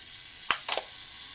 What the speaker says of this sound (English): We'll just push right in. And we'll see the mirror go up and the shutter activate.